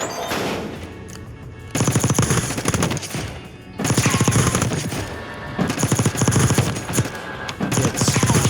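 An assault rifle in Warzone fires long sustained bursts, loud and close, broken by brief pauses, with rapid evenly spaced shots forming a continuous rattling roar.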